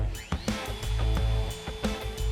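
A high-speed router with a sharp spinning bit cuts binding channels around the edge of a guitar body, giving a steady loud whine with brief dips and surges as the cut moves along the wood.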